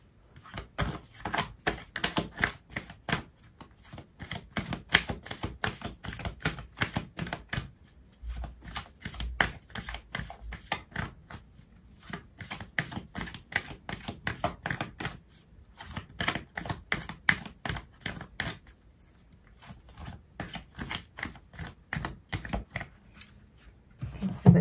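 Tarot or oracle cards being shuffled and drawn during a Leo love reading, a long run of quick, dense papery riffles and flicks with brief pauses between bursts, close and fairly quiet with no talking.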